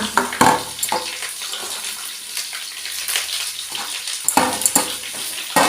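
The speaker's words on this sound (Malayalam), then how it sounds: "ഇങ്ങനെ ഉള്ളി ഇട്ടിട്ടുണ്ട്." Onions fry in a pan for chicken curry, sizzling continuously up close while the spoon scrapes and stirs in sharp bursts.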